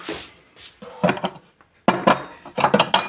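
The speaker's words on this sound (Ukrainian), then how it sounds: "Беремо тарілку." Ceramic plates clink and clatter against each other in several short bursts, with quiet gaps between them.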